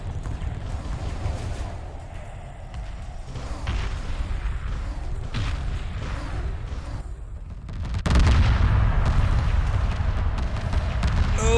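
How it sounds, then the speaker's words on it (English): Plasma bombs detonating across a destroyer's hull in Homeworld Remastered space combat, a dense roar of booming blasts and rumbling gunfire that surges louder partway through, continuous with no voices. "those plasma bombs detonating across the top of the destroyer's hull"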